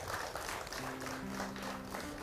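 Audience applause at an Indonesian talk, a continuous wash of clapping under soft background music, fairly faint and even.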